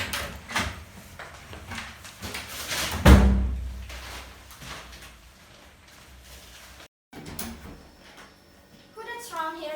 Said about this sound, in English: Who that's around here slamming doors these hours?